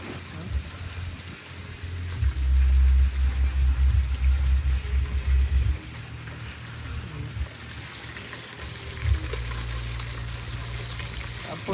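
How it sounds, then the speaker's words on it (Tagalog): Rain falls in a steady wash that swells heavier for a few seconds and then eases back to a constant patter, with no voices heard. "Ulan na."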